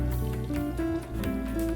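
Neem oil and soap are stirred into water to make a spray solution for a sesame crop. Close, wet sloshing and squishing sounds swirl continuously under a steady low hum.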